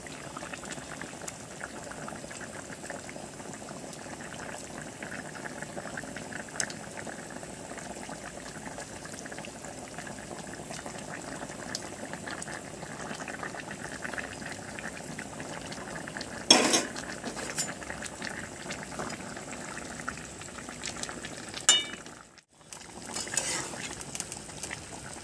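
Bengali fish curry broth with fried fish pieces simmers on a gas stove in an open pot, giving a steady close bubbling boil throughout, broken once by a brief clink of utensils and a short pause near the end.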